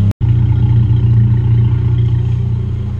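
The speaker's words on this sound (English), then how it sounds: "That exhaust though." Dodge Charger exhaust rumbling close and loud after a brief cut at the start, a deep steady engine drone holding on with slight swells in level and no talk.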